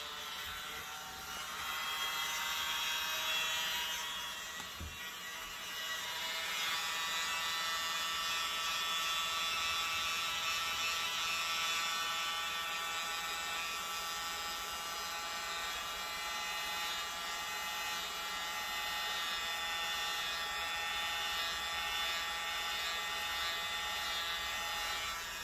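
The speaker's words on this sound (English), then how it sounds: "mini blower." A mini blower pushes air through paint mixed with black cell activator over a black base, making a steady, airy, whining whir that runs the whole time with a short dip early on, no talking.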